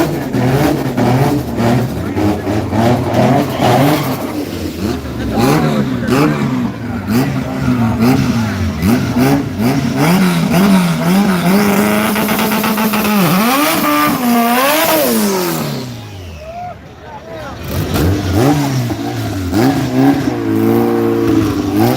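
A Honda car revs and accelerates at the Yello Belly Dragstrip during night runs, a loud continuous engine roar with rising and falling pitch sweeps, dipping briefly near the end before the engine picks up again.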